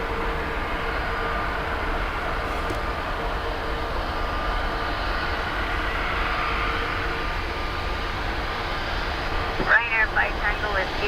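A Ryanair airliner takes off at Dublin Airport, a distant, steady jet-engine roar held over the whole stretch, with a brief burst of clatter near the end.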